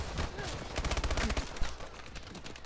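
AK assault rifle with the Wrecker variant firing in Call of Duty: Advanced Warfare, a fast rattling burst of automatic shots up close that fades out after a second or so, with a voice talking over it.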